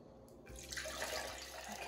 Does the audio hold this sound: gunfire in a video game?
no